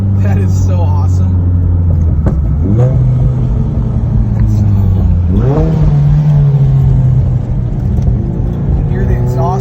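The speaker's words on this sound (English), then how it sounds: "Hear the exhaust note." Loud car engine with a throaty Tomei Extreme exhaust on a Turbonetics-turbocharged car, idling low then revving up sharply twice, the pitch climbing and settling, with a voice talking over it.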